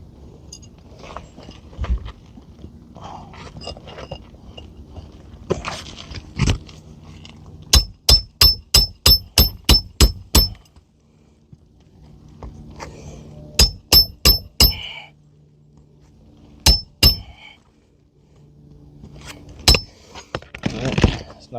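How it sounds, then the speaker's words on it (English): Roofing nails are hammered through roof decking during a shingle repair, arriving in sharp, evenly spaced bursts of metallic strikes: a run of about nine quick blows, a shorter cluster of four, then scattered single hits with quiet gaps between. "I'm just hammering just enough to make sure that the nails do get through the decking"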